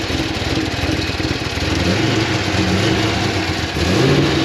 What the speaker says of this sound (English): Oh, aggressive sound coming out of the Corsa